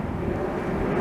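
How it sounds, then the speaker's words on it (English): An airplane flies overhead on an evening walk through a Montreal street, its engine a steady broad rumbling roar that stays constant and fairly loud throughout the brief stretch. "Another plane up there."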